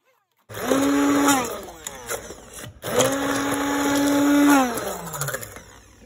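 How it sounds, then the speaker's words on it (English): A hand blender whirs through tomatoes for Telugu rasam in two loud bursts, the motor pitch sliding up and down as it churns, with a short pause between them and no talking. "From blending it with a hand blender, you don't get any tomato peel."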